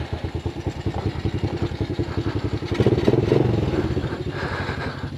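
A small Chinese quad ATV engine idles as it warms up, a close, steady rapid thumping putter with clattery mechanical texture, briefly swelling louder midway before settling back, with no talking.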